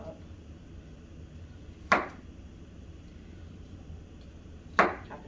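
Two separate sharp knife chops on tofu against a cutting board, about three seconds apart, close and fairly quiet over a low steady room hum.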